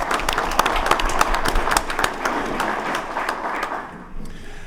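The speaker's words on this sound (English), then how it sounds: "Let's give them a round of applause for a great election." Audience applause at a City of Orlando council meeting, a moderate spell of clapping from the room with a few sharper claps standing out, thinning and fading toward the end.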